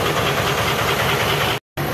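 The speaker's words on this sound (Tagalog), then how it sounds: "Sinsya na ingay kaya nag-break in sa isang makina" An Isuzu 10PE1 engine runs steadily nearby during a steering gear box oil seal repair, a loud rumbling idle with a rhythmic knock that cuts out briefly before resuming.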